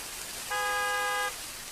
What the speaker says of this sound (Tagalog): kisa may sigig busina sa sakyanan?